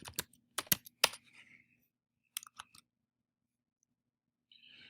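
Keys clatter on a computer keyboard in short bursts of typing, close and fairly quiet, with pauses of silence between the clusters and a brief faint tone at the end.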